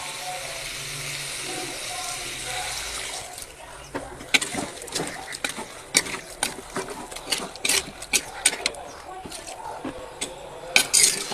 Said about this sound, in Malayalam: ഇനി നമുക്ക് പ്രധാന സാധനം ഒഴിക്കണം, തേങ്ങാപ്പാൽ.